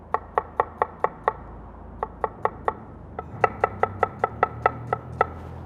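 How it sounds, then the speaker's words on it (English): Knife slicing through Brussels sprouts on a cutting board: crisp, evenly spaced chops in three quick runs of about six to nine strokes each, close and distinct against a quiet room. "and then we'll just slice these up"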